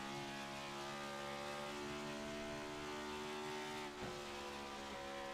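A next-gen stock car engine in a sim racing game at Dover drones steadily at full throttle, a loud sustained harmonic whine with a brief dip near the end, with no talk over it.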